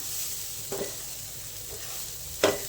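Seviyan (vermicelli) stirred in a pan with a soft background sizzle, a few faint scraping strokes and one sharper clack near the end, with no talking.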